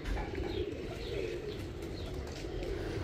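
Soft, low pigeon cooing murmurs continuously over a faint background hum, with several birds blending together at moderate distance.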